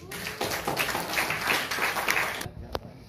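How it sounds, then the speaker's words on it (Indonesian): Audience applause for Abah Zawawi Imron at a writers' gathering in Makassar: a dense, steady wash of clapping for about two and a half seconds, then it breaks off into a quieter room with a lone tap. "Kepada Abah Zawawi Imron, saya persilahkan kita beri aplaus"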